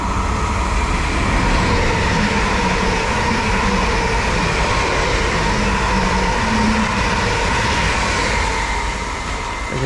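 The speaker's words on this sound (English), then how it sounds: "Arriving in as the 1201 service from Hertford East to London Liverpool Street." A loud, close rumble from a train on the Hertford East to London Liverpool Street line runs without a break as it comes into the platform, with a heavy low roar and steady rolling noise and no one talking.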